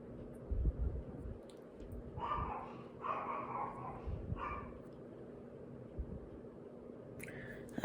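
A dog indoors gives a few short, muffled barks in a quick cluster, faint and somewhat distant, over a quiet background.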